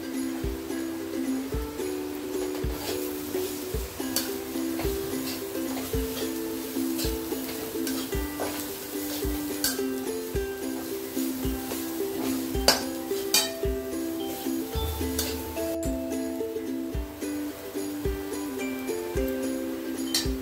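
Bhakri chivda, crumbled flatbread with salt, is stir-fried in a pan with a soft continuous sizzle and regular metallic clinks and scrapes of a spoon, close and without voices.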